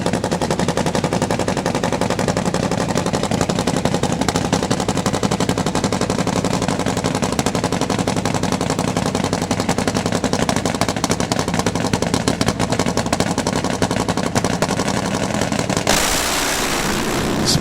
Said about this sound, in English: Second generation Nitro Harley racer with his bike tuned by Bobby Buckley and his dad, Bill Furr.